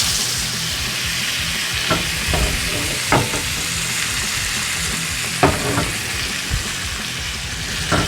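Sirloin steaks sizzle steadily in a hot pan, a dense continuous frying hiss broken by a few sharp crackles and pops, close and loud with no talking.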